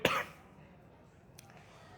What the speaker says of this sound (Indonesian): Ini batuk tadi nih gara-gara makan pedes.